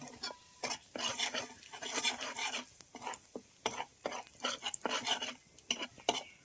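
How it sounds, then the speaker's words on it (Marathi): Red and black chillies stirred in hot oil in a pan over a village fire, with repeated scraping and clinking of a spoon against the metal in quick irregular strokes under a faint sizzle. "तेल गरम झालं की लाल मिरची काळी मिरची टाकायची थोडीशी आता हलवून घेऊया जरा"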